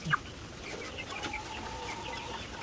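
A large Rhode Island Red and Black Australorp cross chicken gives a few short clucks close by, then quieter soft calls over a faint background hum.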